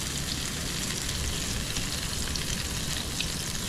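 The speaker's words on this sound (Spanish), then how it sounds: "lo vamos a humedecer de ambos lados y lo vamos a ir poniendo en la sartén" Moistened bread frying in a pan while cooking outdoors on a beach, giving a steady, close sizzle with fine crackling that holds even throughout, no talk.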